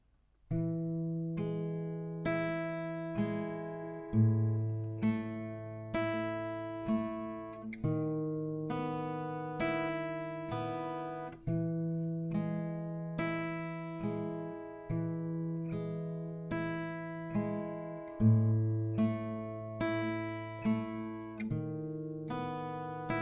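A slow, plucked acoustic guitar melody from DVBBS and Powfu's "Losing Sleep," notes ringing out one at a time over sustained low bass notes, steady and unhurried with no voices.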